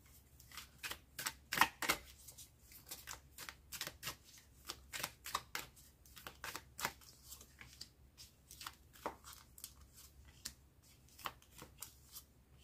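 Playing cards shuffled by hand at close range, a quick series of crisp riffles and flicks in irregular bursts against a quiet room.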